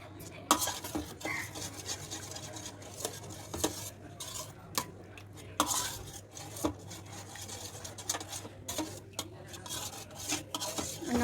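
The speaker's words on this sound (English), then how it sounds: "Mix the rava nicely so that there must not be any lumps." A utensil stirs a rava mixture in a metal pan, producing continuous scraping and rubbing with irregular clinks and knocks against the pan, close and fairly loud.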